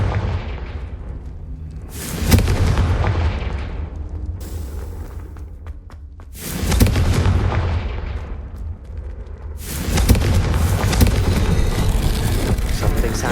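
Confringo blasting spells in Hogwarts Legacy: three heavy explosive booms a few seconds apart, each with a sharp crack and a rumbling roar that slowly decays, loud and close.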